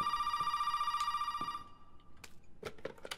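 A telephone in the Resident Evil 7 video game rings with a steady electronic trill, then cuts off, followed by a few sharp clicks and taps.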